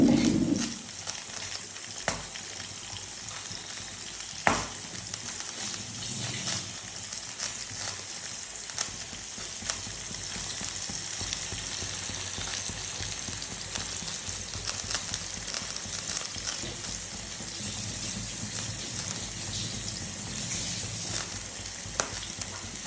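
Green chillies and curry leaves fry in a pan with a steady, crackling sizzle that persists throughout, punctuated by occasional clinks and stirring scrapes, close and unaccompanied by talk.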